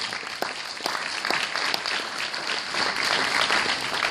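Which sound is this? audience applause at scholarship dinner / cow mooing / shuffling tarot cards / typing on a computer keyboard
audience applause at scholarship dinner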